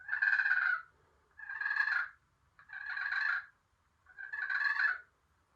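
Wild turkey feeding call: four loud, raspy clucking bursts of about a second each, evenly spaced with short quiet gaps, heard close and alone.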